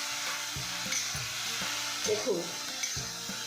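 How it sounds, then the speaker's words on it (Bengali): Drumstick flowers stirred in a frying pan, giving a soft sizzle with several scraping strokes of the utensil, fairly quiet, while a voice speaks briefly over it. "সজনের ফুল দিয়ে দিচ্ছি, সবগুলোই দিয়ে দেবো। নাড়বো।"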